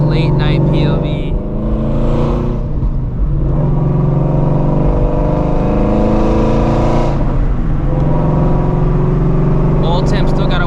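Shelby GT350 driving at night, a deep engine drone that climbs and shifts through several revs and gear changes, heard from inside the car under steady noise.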